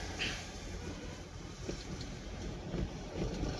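Wind buffeting a moving Tata Intra V30 mini truck on a highway, a steady low roaring rush close to the microphone with no talk.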